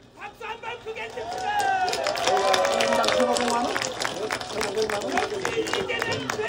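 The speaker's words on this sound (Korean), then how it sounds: "박수 한번 크게" A large outdoor crowd at a political rally in Yeonggwang breaks into loud, sustained applause and cheering, swelling after a few seconds and holding as a dense wash of claps with some voices mixed in.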